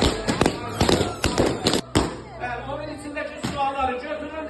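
Balloons burst one after another in quick, sharp pops during an indoor gathering, several loud bangs clustered early, followed by a crowd's lively chatter and murmuring.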